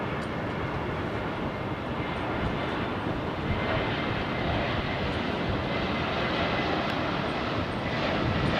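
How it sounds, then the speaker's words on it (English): A Boeing 787 Dreamliner arriving on runway 27R at London Heathrow, with gear down, makes a steady, loud broadband jet roar that holds evenly throughout with no talk. "It's a Dreamliner."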